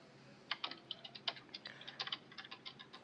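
Rapid clicking on a computer keyboard, about a dozen short, crisp taps in an uneven rhythm, close and fairly quiet over a low hum, during a Roblox Squid Game session.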